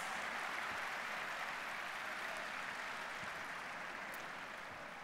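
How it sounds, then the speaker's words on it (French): A large crowd at a graduation ceremony gives sustained, dense applause, a continuous wash of many hands clapping at once, heard from a distance and fairly faint, steady throughout with no talking. "on peut s'applaudir bien fort?"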